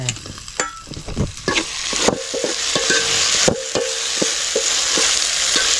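Chicken gravy cooking outdoors in a pot while someone stirs it, with loud, close scraping strokes of a ladle over a steady sizzle and bubbling.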